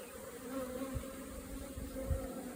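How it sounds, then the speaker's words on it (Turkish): A steady, dense buzzing of many honeybees entering a hive, a continuous swarm hum close by with no voices. "buradaki arı kovanın içine çekilecektir"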